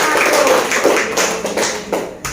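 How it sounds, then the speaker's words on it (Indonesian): A classroom group claps for the presenting team, giving a short burst of scattered, close claps that taper off within a couple of seconds. "Boleh tepuk tangan dulu untuk kelompok"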